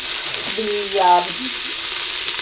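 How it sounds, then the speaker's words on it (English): Chopped onions sizzle in a pan as a loud, steady wash of hiss, with a brief faint tonal voice-like murmur partway through. "these are already starting to simmer. I mean sizzle, I should say."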